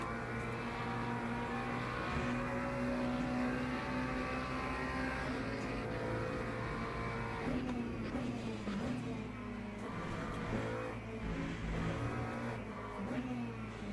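Race car engines in the racing game Le Mans Ultimate, a loud sustained tonal whine with shifting pitch as cars rev and ease off, steady throughout with faint speech beneath.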